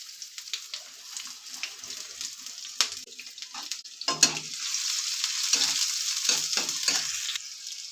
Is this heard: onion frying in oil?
yes